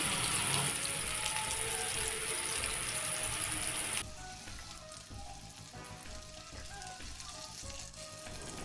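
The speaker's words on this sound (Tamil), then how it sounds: "ஆயில் ஹீட் ஆனதும் ஒவ்வொரு சீக் கபாபாக எடுத்து வைக்கிறேன்" Mutton seekh kebabs laid into hot oil in a pan give a bright, steady sizzle that drops abruptly to a softer crackling fry partway through, with no talking.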